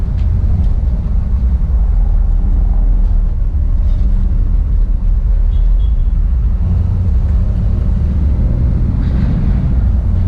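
A 1963 Cadillac Fleetwood Series 75 nine-passenger limousine with a newer exhaust system drones steadily while driving on the road, a loud, constant low engine and exhaust rumble filling the whole stretch with no talking.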